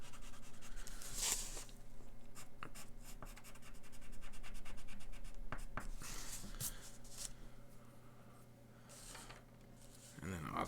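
Colored pencil shading on paper while coloring a drawing of the Joker, a steady scratchy rubbing of lead across the sheet that runs softly under background noise, with a few sharper strokes.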